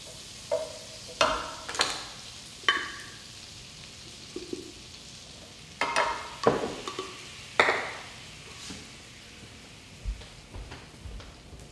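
A whisk stirs flour into melted butter in a pan to make a roux, giving scattered soft scraping and tapping strokes over a faint sizzle.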